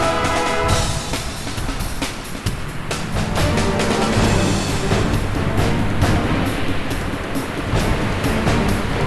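Big ocean waves in a stop-motion toy scene, a loud, continuous crashing surf with churning water and splashes throughout, no voices over it.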